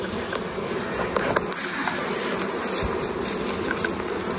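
Wild honey bees swarm around a honeycomb inside a cave while it is cleared of bees, making a dense, steady buzz that fills the space close by, with a few faint knocks and scrapes underneath.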